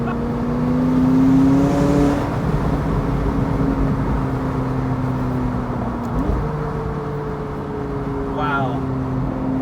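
A McLaren supercar with a tuned exhaust revs and accelerates, its engine note climbing in pitch and shifting as it pulls away, loud and close with a lingering rumble and voices faintly underneath.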